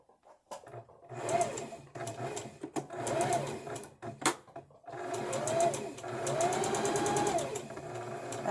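A shaking sewing machine stitching slowly in short bursts, each run a rhythmic whirring chatter separated by brief pauses and small clicks, close and clear with no talking.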